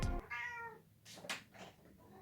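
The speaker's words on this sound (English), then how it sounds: "Don't mind the cats" Cats meow several times at close range, with a loud low thump at the very start and no talking over them.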